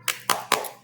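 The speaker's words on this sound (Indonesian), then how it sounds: "tepuk semangat," Three sharp hand claps spaced in an even rhythm, close and distinct, led by a teacher demonstrating a classroom 'tepuk semangat' ice-breaker clap.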